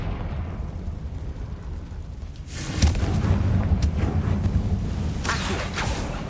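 A Confringo spell explosion in the video game Hogwarts Legacy lands as a deep rumbling boom midway, over steady background noise, followed by a few sharp cracks.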